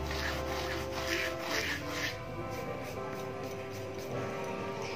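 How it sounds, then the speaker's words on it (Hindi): Ajwain seeds rubbed between the palms and dropped into wheat flour dough for namkeen give a soft, steady dry rasping and crushing, close and continuous, with no voice over it. "इसको दोनों हथेलियों पे इस तरीके से मसल के डालेंगे"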